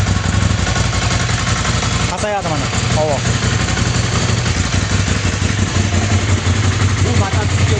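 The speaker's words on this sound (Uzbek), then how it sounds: "Bu mototsiklda to'rtta silindr emas, 2 dona katta silindr. Yamaha, Kawasaki, Honda'larga o'xshab ovoz yoqimli emas." A large two-cylinder motorcycle engine idles close by with a steady, uneven low throb, while a person talks over it.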